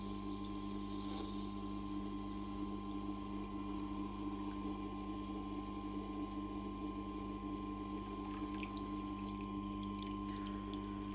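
Tormek T8 wet sharpener grinding a kitchen knife: a steady, fairly quiet motor hum with a watery wheel hiss running unchanged throughout, no talking.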